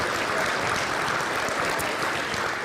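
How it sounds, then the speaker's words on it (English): Steady applause from an audience at a travel and tourism industry awards ceremony, a dense continuous clatter of clapping throughout without any voice over it. "A round of applause for all of you for being here."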